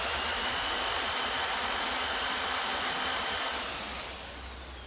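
A drill fitted with a cleaning attachment scrubs a part from a 1954 Ferguson 20 TEF diesel tractor, giving a loud, steady close-up whirring hiss that fades slightly near the end.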